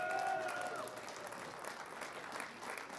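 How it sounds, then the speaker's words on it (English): Audience applause at a straight pool match between Appleton and Deuel, a dense, moderately distant clapping from a crowd that starts strongest and then settles into a steady, even patter. "one more round of applause for the Principal Corey Deuel"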